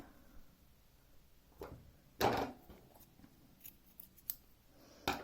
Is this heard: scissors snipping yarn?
yes